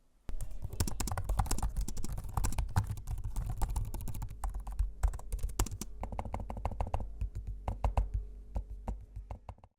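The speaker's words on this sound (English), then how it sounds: "here's a sample of the keyboard and trackpad so you can hear what they sound like for yourself" Rapid close clacking from the Samsung Galaxy Book5 Pro laptop keyboard fills the stretch, with typing bursts giving way to sharper, sparser trackpad clicks near the end, quiet and alone without talking.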